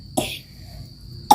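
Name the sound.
child coughing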